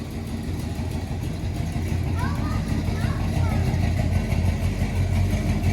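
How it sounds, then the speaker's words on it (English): A 1981 Oldsmobile Delta 88 engine idles steadily and fairly loudly after a long high idle, a low continuous rumble with faint chirps above it. "we've been idling for about, I don't know, 5-10 minutes. It was really high idling."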